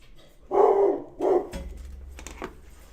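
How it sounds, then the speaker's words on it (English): Dogs, one named Penny, barking indoors: two loud, close barks in quick succession, followed by quieter scuffling and low rumbling noise. "Dogs."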